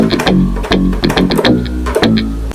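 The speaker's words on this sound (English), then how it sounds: "We got a bit more of a melodic type of bass line." A gritty, distorted synth bass plays a moving melodic line under bright percussive hits, loud and steady throughout.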